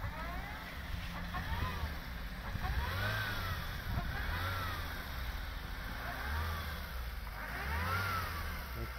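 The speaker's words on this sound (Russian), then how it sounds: "Вот так обе машины буксуют." Two Lada cars, a VAZ 2109 and a Priora, stuck in a snowdrift, with engines revving in repeated rising and falling surges and wheels spinning in snow; a steady mid-level drone with periodic louder pushes throughout.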